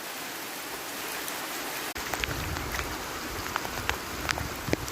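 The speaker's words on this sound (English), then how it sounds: "It's raining." Heavy rain pours onto a flooded road that has turned into standing water, a steady dense hiss of drops splashing on the surface, fairly quiet and continuous with scattered brighter patters.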